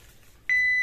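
A kitchen timer gives a single sharp, steady electronic beep that starts halfway through and holds loud and clear over faint room noise.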